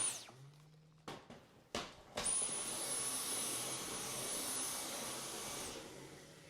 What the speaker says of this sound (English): I had to clean my vacuum cleaner.